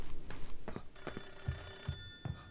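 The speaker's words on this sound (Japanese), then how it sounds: "さあ電話かかってくるよ" Telephone ringing in the Utsuro Mayu horror video game, a repeating electronic bell tone with regular bursts, fairly close and clear with no talk over it.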